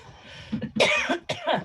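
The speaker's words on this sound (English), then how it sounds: "didn't mean to unmute and then immediately cough." A short burst of harsh coughing during a planning commission meeting, two or three close coughs after a brief throat sound, near and fairly loud.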